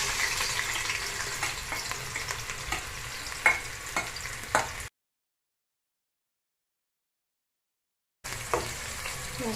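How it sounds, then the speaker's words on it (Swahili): Onions fry in hot oil in a pan with a steady close sizzle and a few stirring knocks, broken by a few seconds of total silence before the sizzling resumes. "So we put in our onions."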